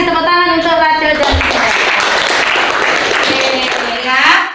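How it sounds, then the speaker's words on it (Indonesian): A classroom of students claps for classmates after a presentation on folk tales, a burst of dense applause following a teacher's voice, with talking over the clapping near the end. "terima kasih tepuk tangan untuk Rachel dan"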